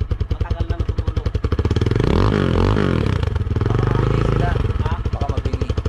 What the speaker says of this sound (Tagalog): Pakinggan mo yung tunog ng Sigma matagal na natutulog.